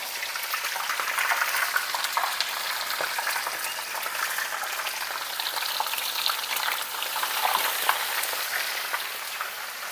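Fish without any flour coating fries in a pan, a loud, dense and continuous crackling sizzle heard close up, with no speech over it.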